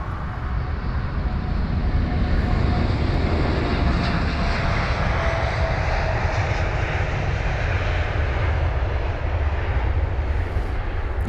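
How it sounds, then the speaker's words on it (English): United Boeing 787-9 Dreamliner jet taking off from London Heathrow, a loud continuous engine roar with broad rumbling noise holding steady throughout, heard from the airfield without talk. "This is United 7789 Dreamliner, that would be."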